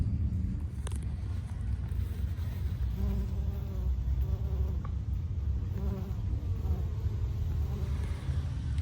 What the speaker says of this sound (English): Watch out for the bees, though.